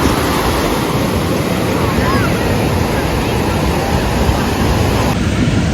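Ocean surf rolls onto Patong beach in Thailand as a steady, dense wash of breaking waves, with gusting wind buffeting the microphone throughout.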